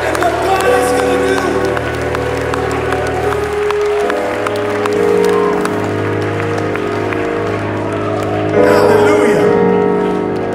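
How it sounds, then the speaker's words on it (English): A church congregation claps together during a revival service in Roatán, Honduras, a steady wash of many hands under music and crowd noise, swelling briefly near the end. "would you clap your hands right now"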